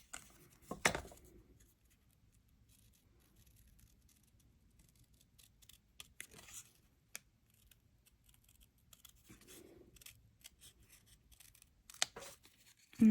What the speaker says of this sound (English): you can just fussy cut that stamped image out